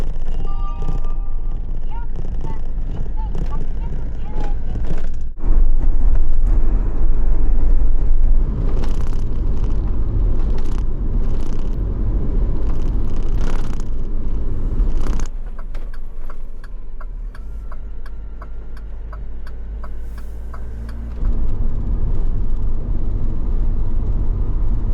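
A compact cab-over camper van, the Nihon Tokushu Body HAYATE, cruising on the Shin-Meishin Expressway gives a steady loud cabin rumble of road and engine noise, with rattles and creaks inside and a voice talking over it.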